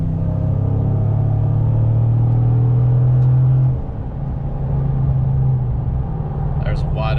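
A 5.3-litre truck fitted with a Corsa Sport exhaust runs at wide open throttle, a loud, steady low drone that drops in pitch midway and continues as a deep rumble heard from inside the cab.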